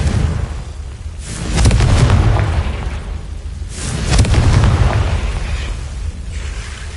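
Confringo fire spell blasts in the Hogwarts Legacy video game: two heavy, booming explosions a couple of seconds apart, each a loud rumbling burst that fades before the next, set against steady game background sound.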